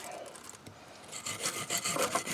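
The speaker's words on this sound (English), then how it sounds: "we're going to clean that up with the wire brush" A wire brush scrubs the brake slide points of a Nissan Titan during a rear brake service, making quiet, close, scratchy rasping strokes that grow more rapid and louder toward the end, with no voices.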